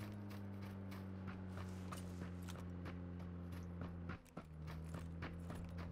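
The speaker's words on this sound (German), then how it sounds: "Ich höre die ganze Zeit Schritte." Rapid, evenly spaced footsteps in an online shooter game tap steadily over a constant low engine-like hum, with a brief dip in the background drone partway through.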